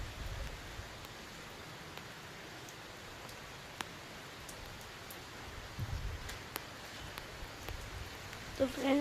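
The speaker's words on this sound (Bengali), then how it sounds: "বিশাল বৃষ্টি হচ্ছে" Heavy rain falling outdoors near gardens, a steady broadband hiss of downpour with scattered sharp drop ticks, fairly soft and continuous, with a few louder bumps near the end and no voices.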